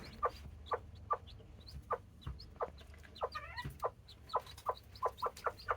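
A Serama hen clucks softly in a steady series of short, evenly spaced calls close by, with brief faint high chick peeps mixed in midway.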